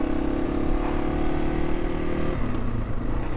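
A Yamaha TW200 motorcycle rides through the woods with a steady, loud, close engine drone, and the pitch drops partway through as the rider shifts gears.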